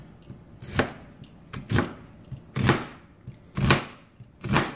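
A knife slices an onion on a cutting board with six crisp, evenly spaced chops, close and clear with short pauses between, during prep for shrimp with baby bok choy.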